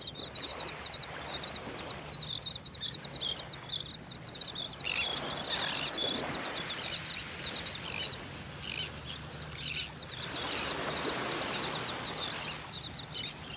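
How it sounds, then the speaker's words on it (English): A dense, continuous chorus of high chirping and squawking birds fills a beach in North Naples, Florida, steady and fairly loud over surf-like background noise for the whole stretch, with no talk. "Listen to all those birds."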